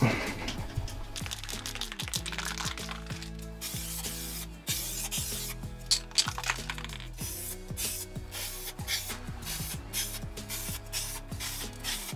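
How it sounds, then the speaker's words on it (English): Base coat paint sprayed onto an old hammer under restoration, with repeated short hissing bursts of the spray can, close and quiet, each separated by brief pauses and faint handling clicks. "Okay, let's put on the base coat."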